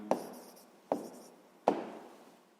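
A pen scratches across paper while a maths answer is written down, three short distinct strokes spaced about a second apart, each fading quickly, close and quiet with no speech.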